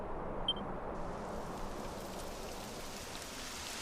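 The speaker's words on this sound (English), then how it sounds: "It would have to go and start raining, wouldn't it?" Steady rain falls in a Dragon Quest XI game scene, a constant soft hiss with a single faint beep early on and no talking.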